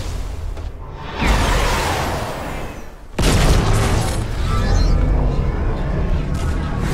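Sniper shots ring out in a Fortnite match, two heavy booming reports several seconds apart with rumbling tails, loud and close.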